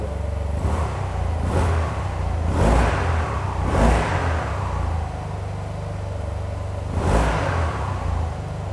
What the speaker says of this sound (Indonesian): Enak ya, suara knalpot standarnya tuh adem banget.